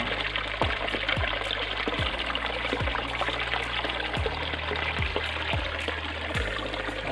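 A small rural creek in the Philippine countryside flows with a steady, close trickling and rushing of water that runs unbroken throughout, with no voices.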